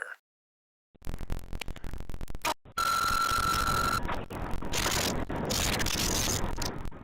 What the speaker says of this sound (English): We hear breathing and a fluctuating beeping, almost like the radio of a spacecraft.